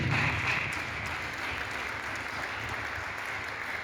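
A church congregation applauding together in acclaim of the Lord during a seminar in Lubumbashi, a steady dense wash of clapping that holds from start to finish, loudest in the opening half-second.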